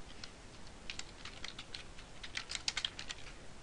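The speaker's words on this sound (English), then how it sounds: "So you might start by typing in your name here." Quiet, quick tapping of keys on a computer keyboard, a steady run of soft clicks close by with no talking.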